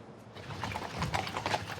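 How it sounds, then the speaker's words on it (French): Horses' hooves clip-clop at a steady walking rhythm as they pull a ceremonial carriage through a London park, moderately close and growing slightly louder, with no speech. "Le pas des chevaux résonne dans ce parc londonien"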